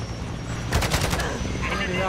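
Rapid automatic fire from a sentry turret in a shooter game, a short dense burst of shots close by over steady background battle noise.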